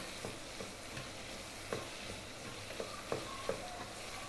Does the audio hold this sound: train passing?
no